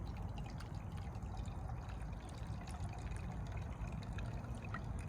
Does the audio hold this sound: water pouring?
yes